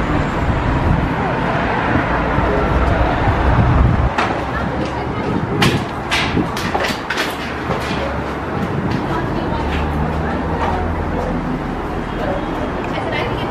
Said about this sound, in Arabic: المترو هو ورايا، غادي نركب في المترو باش نمشي للمطار